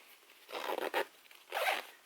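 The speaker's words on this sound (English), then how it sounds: "We'll zip it up" A suitcase zipper is drawn closed in two quick pulls separated by a short pause, a close, raspy zipping with no talk.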